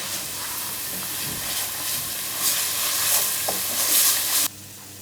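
Chopped onions frying in a pan for keema curry with garlic, a steady loud sizzle with occasional stirring scrapes that builds slightly before cutting off abruptly near the end.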